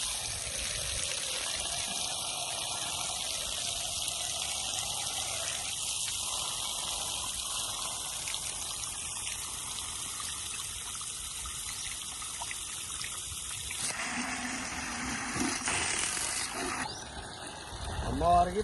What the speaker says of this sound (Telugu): ఫ్రెష్ వాటర్ పడుతున్నా